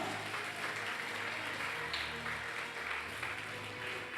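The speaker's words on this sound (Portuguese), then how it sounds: "Quem pode aplaudir ao nome de Jesus?" A church congregation claps steadily throughout, a dense, continuous wash of applause with no pauses.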